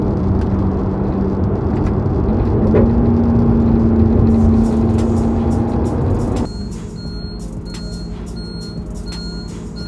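Beeping inside an Alfa Romeo 8C Competizione: a steady warning tone over a loud engine rumble, then the engine drops off and thin, repeated high chirps continue in a quieter cabin.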